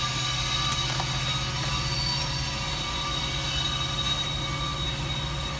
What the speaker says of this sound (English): I really don't get why that train's taking so long to go.